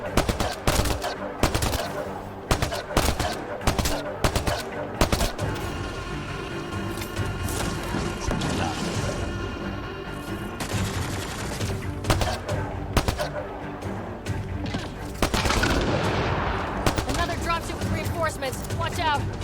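Rapid bursts of assault rifle fire in the sci-fi shooter Mass Effect: Andromeda, loud and close, crackling in repeated volleys with combat noise and voices talking over parts of it.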